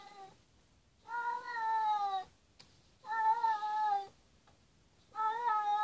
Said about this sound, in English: I love my cats. I've got cats.